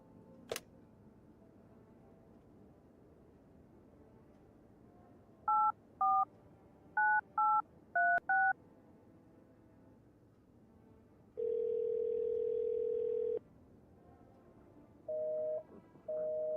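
Telephone keypad tones from a phone in a video game, a faint click followed by a run of short dialing beeps, then a long sustained tone and two more brief beeps against a quiet background.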